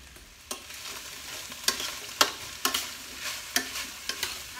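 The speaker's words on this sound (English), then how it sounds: "we're gonna start with our carrots and our cauliflower, and we're gonna stir fry those for a little bit" Carrots and cauliflower stir-fried in a pan: a soft continuous sizzle broken by about eight sharp scraping tosses at an uneven pace, close and clear, with no talking.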